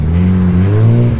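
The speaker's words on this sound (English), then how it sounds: "And we got a Supra that pulled in." A Toyota Supra pulls in at a Halloween car meet, its engine giving a loud, close, steady rumble that swells slightly as it rolls forward, heard alone without talk.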